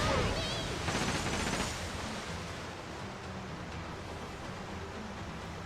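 Ship cannons and guns fire in a pirate naval battle off Hawaii, a thick rolling barrage with rumbling blasts that is loudest at the start, then eases into a churning wash of noise over water.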